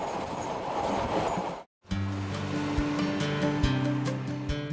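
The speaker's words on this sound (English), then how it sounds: "Darkness closes in on the train as it races downward towards the river port of Greymouth" A train rushes downhill toward Greymouth, a steady roar that breaks off briefly, then returns as a rattling run with rhythmic clicks and low tonal hum, alone with no talk.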